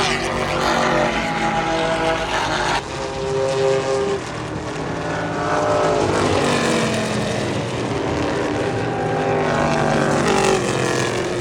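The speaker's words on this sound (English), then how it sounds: "Next up are the IMSA Classic cars, around from 1962 to 1979. They have no mufflers," Unmuffled IMSA classic race cars from 1962 to 1979 roar past at Sonoma Raceway, a loud continuous engine howl with rising and falling pitch as the cars pass, with the next car following close behind.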